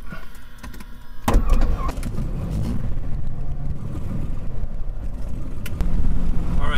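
Light aircraft piston engine cranking, then catching and settling into a loud, steady rumbling run close by after a sharp start.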